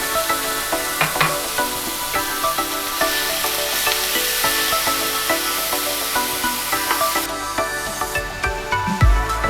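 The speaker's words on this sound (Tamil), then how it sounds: "இப்போ இன்னும் கொஞ்சம் கீ ஆட் பண்ணி இந்த பீட்ரூட்டை வந்து நல்லா கொஞ்சம் இந்த கீயில் ஃப்ரை பண்ணிக்கலாம்" Grated beetroot fries in hot ghee with a dense, loud sizzling hiss and regular scraping strokes of a spatula stirring it in the pan; close up, no voices, easing off near the end.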